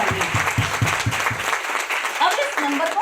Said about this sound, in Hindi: एक बार जोरदार तालियां हैं सारे के सारे तुम्हारे लीडर्स के लिए बजाइए।